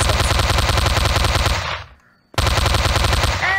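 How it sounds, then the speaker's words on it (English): Rapid automatic gunfire from the EddsWorld video game rattles loudly and continuously, breaks off briefly for under a second, then resumes at full intensity. "Hey, I'm shooting you!"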